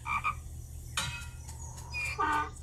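A frog croak from a music video game featuring pigeons sounds as a couple of short bright croaks, then a sharp burst and more croaking notes over a steady low background hum.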